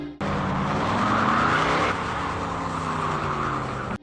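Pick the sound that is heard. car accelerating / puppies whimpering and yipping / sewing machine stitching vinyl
car accelerating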